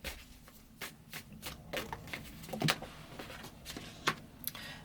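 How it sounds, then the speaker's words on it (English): Tarot cards are drawn and shuffled by hand, with a quiet series of soft flicks, snaps and riffles spaced irregularly across a few seconds, close and isolated. "Let's pull 3 more cards,"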